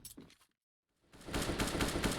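Dense rapid gunfire in CS:GO during a competitive ESL Challenger League match, a loud sustained burst of shots that starts after a brief quiet gap, following some faint earlier sounds.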